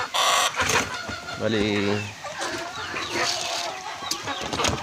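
Chickens and roosters cluck and call close by while grain feed is set out for them, with a person talking over the birds throughout.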